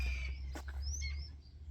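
Birds in a Cuban zoo give a few thin chirps and a rising whistled call over a low background hum, fairly close but modest in level, with faint insect-like ticking underneath.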